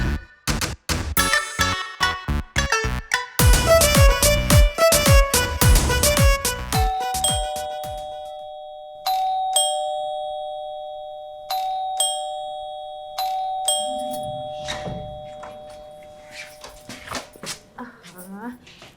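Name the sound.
doorbell ringing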